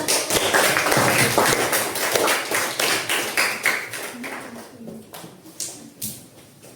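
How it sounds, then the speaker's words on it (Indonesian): A classroom of students applauds a group during an economics lesson: dense, loud clapping that thins out and fades over several seconds, with a few scattered claps at the end. "Silakan kasih tepuk tangan untuk"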